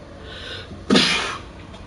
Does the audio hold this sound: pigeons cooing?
no